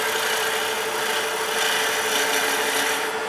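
A skew chisel cuts wood on a lathe, giving a steady, close scraping rasp with a hiss that runs without a break for a few seconds. No one speaks over it.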